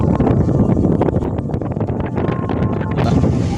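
Strong wind and rain buffet the microphone on a rooftop terrace in loud, rough gusts, with a faint watery wash beneath and no talking.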